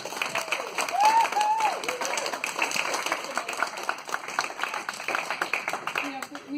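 Audience applause from a room full of people, steady clapping that holds for several seconds at moderate loudness, with a brief voice near the start.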